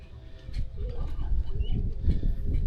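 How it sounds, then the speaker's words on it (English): Birds call at Hanna Park in Jacksonville, Florida. Faint, scattered coos and chirps sit over a steady outdoor rumble and wind, with no clear talking. "See all these birds over here hanging out."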